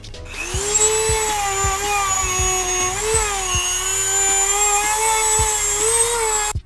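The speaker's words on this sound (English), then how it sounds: "let's plug in our Dremel and get to work" A Dremel rotary tool runs nonstop at a high, whining pitch while cutting a hole for a 2017-2020 CBR1000RR frame slider install, loud and close with slight speed wobbles and faint ticking underneath.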